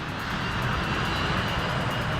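Jet airliners taking off from the main runway 36R at Milan Linate Airport, a loud continuous engine roar that holds steady throughout with no voices.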